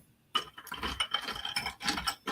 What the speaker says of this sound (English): I got all my ice cubes.